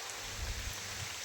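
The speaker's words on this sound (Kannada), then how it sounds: "ಮಳೆ ಬೇರೆ ಹುಯ್ತಾ ಇದೆ" Rain pours beside a brimming lake where people sit fishing on the bank, a steady, soft hiss of falling drops with a low rumble underneath, brief and alone.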